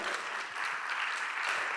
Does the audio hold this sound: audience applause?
yes